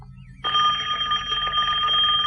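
A telephone rings loudly and steadily in a French-language action film scene, starting abruptly after a brief quiet moment and continuing without pause under a low ambient background.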